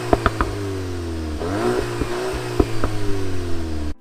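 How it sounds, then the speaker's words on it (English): A 2024 VW Golf GTI with a 7-speed dual clutch, driven hard, its engine note rising and falling through shifts while several sharp exhaust pops and crackles punctuate the drone, close and fairly loud. "The exhaust will actually pop when letting off the gas in second or third, or when you're upshifting or downshifting while driving aggressively."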